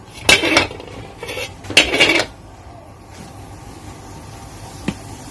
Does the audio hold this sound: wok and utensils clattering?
yes